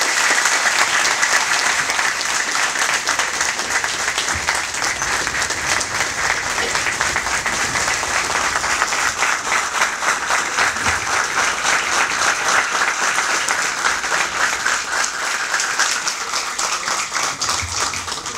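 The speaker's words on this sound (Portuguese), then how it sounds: "vamos todos nós agora aplaudir o Crato com a salva de palmas" Audience at a ceremony in Crato, Ceará, gives a sustained round of applause, a loud, dense, even roar of many hands clapping that holds steady throughout.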